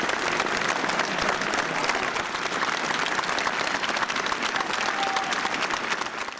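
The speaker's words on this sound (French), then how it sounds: "Un chant immédiatement suivi par un tonnerre d'applaudissements pendant plusieurs minutes." A large crowd applauds at a public gathering right after singing the Marseillaise, a loud, dense, sustained roar of clapping that holds steady throughout with no break.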